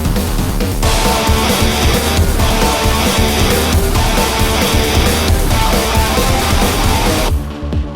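A dense, loud industrial rock remake plays, with distorted full-band texture pounding continuously and brief rhythmic breaks before cutting off near the end.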